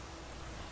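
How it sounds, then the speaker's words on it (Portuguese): Rain falling in The Witcher 3, a steady, even hiss of drops that runs without a break through the short moment, fairly quiet and with no other sound over it. "Tá chovendo."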